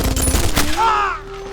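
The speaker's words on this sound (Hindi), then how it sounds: "वो लोग मशीन गन चला रहे हैं।" A rapid burst of machine gun fire cracks sharply, then gives way to a lingering whine and fading echo.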